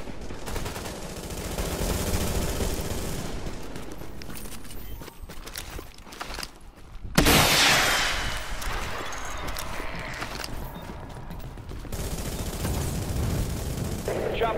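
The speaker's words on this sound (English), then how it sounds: "Someone's shooting us." Gunfire in The Division's Dark Zone, a dense run of rapid shots and scattered small explosions that rise to a loud burst midway, with game ambience throughout.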